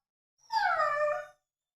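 A dog lets out a single short, rising-then-falling howl, nearby and alone against silence, as it demands to be let outside.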